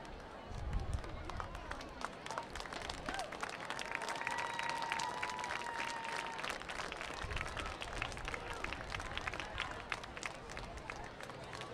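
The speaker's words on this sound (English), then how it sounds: "let's have a big round of applause" A stadium crowd at a high school homecoming football game claps steadily for the crowned homecoming queen, a dense, continuous patter of many hands with a crowd murmur and some voices mixed in.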